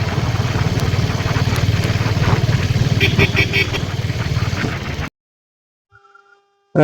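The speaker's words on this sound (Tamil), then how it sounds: "இன்ஜின் பீட் வந்து அருமையாக இருக்குது" A 1997 diesel Bullet motorcycle engine idles with a steady low thumping beat, then cuts to near silence before a brief burst at the end.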